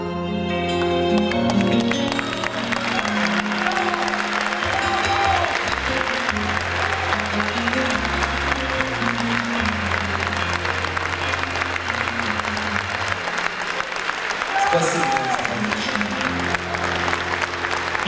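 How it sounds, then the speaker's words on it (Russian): Loud, sustained applause from a concert audience at the Kalina Krasnaya song contest awards in Moscow, steady and full throughout with band music playing beneath it. "Аплодисменты. Бурные."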